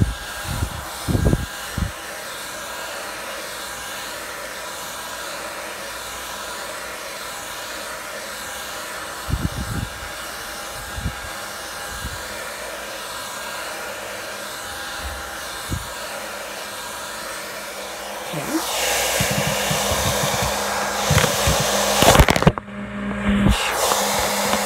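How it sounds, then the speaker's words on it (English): Handheld blow dryer on the cool setting, drying hair, whirring steadily and loud and close for the whole stretch, growing harsher and brighter near the end, with occasional knocks and handling bumps. "I love this blow dryer, y'all."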